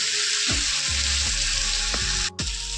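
Ridge gourd fries in a hot pan while a spatula stirs it in regular scraping strokes about every half second, over a steady close sizzle.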